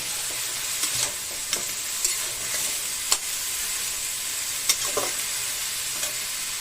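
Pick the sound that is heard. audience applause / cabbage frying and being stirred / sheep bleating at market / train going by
cabbage frying and being stirred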